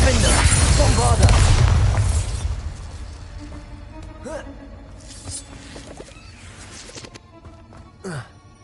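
A Bombarda blasting spell in a Harry Potter video game, a loud booming explosion with a rumbling tail in the first few seconds, then quieter scattered game effects and voices.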